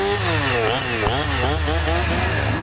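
A chainsaw engine revs and whines in a horror-film scene from Texas Chainsaw 3D, its pitch rising and falling in repeated surges, loud and close, cutting off abruptly at the end.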